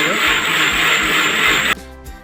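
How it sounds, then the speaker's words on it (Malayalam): A brand-new electric mixer grinder grinds coconut for a chicken curry, whirring loud and steady at full speed for under two seconds, then abruptly cutting off as the motor winds down. "അത് നമ്മളെ പുതിയ മിക്സി ആയിട്ട് നമ്മൾ നോമ്പിലേക്ക് വേണ്ടി വാങ്ങിച്ച മിക്സി ആട്ടോ"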